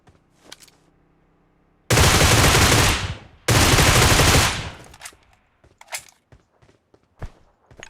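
Gunfire in a shooter video game comes in two loud sustained bursts of rapid automatic fire, close and dominant, with quieter clicks and shuffling around them.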